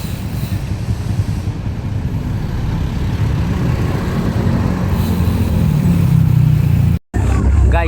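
Steady road traffic on the way to DRT, a dense rumble of passing car, truck and motorcycle engines, close and loud for several seconds, ending after a brief dropout.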